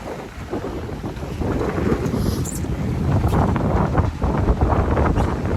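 Steady wind roars across the microphone on a sailboat at sea, a 16-knot breeze on the port beam, with water rushing beneath in a continuous loud wash and occasional gusts.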